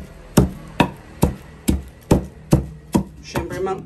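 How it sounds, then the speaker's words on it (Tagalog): Garlic pounded in a mortar for chicken-foot sampalok soup, eight sharp evenly spaced thuds about half a second apart, close and loud with no talk. "dinidiktik na ni Mother Dear ang bawang"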